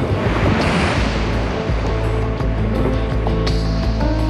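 Heavy surf of six to eight feet pounds Bondi Beach in a dense, continuous roar of crashing waves and wash, loud and close, with wind buffeting the microphone.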